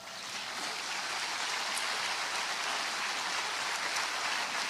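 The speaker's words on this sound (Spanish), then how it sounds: "¿No le pueden dar un aplauso al Señor?" A church congregation applauds continuously and loudly, a dense, even wash of clapping that holds steady without any talking.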